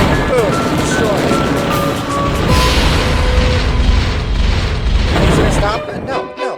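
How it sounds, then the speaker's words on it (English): Bombing explosions in the Age of War video game, with heavy booms and rumbling blasts packed together in a dense, loud barrage that thins out near the end. "Guess what? We got bombed. Boom, destroyed."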